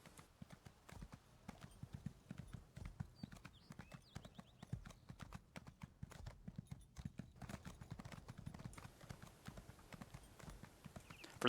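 Hooves clip-clop steadily as a horse is ridden through Belkarth in Elder Scrolls Online, a quiet rhythmic trotting beat that continues the whole time with soft ambient sound behind it.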